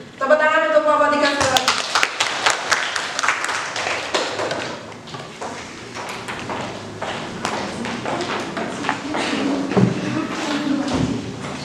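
A classroom audience applauds a group presentation: a ragged burst of hand claps and taps runs throughout, with people talking over the clapping.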